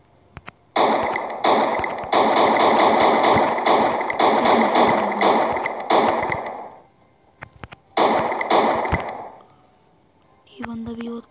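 Rapid bursts of gunfire in a shooter video game, loud sustained volleys with short gaps, ending in a brief tonal game sound; a voice is faintly present underneath.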